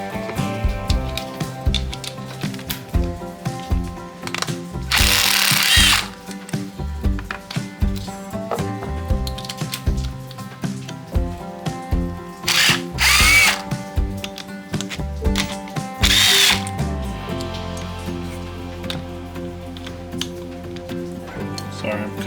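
Power drill removing T30 screws from an air conditioning compressor, with several short, loud bursts of whirring driver action between quieter stretches of handling and clatter, and a steady background hum throughout.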